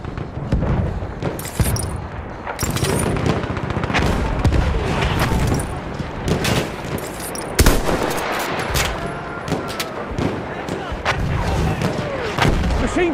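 Machine gun fire rattles through a Battlefield 1 match on the St. Quentin Scar map, with dense overlapping bursts and distant artillery booms filling the whole stretch, loud and continuous.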